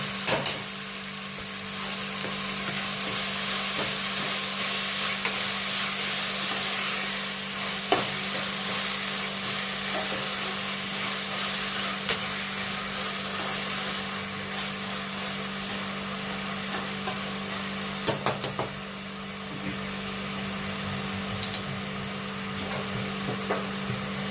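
Mint and coriander leaves sizzle steadily in a hot pan as they are stirred, with a constant frying hiss and occasional scrapes of the spoon.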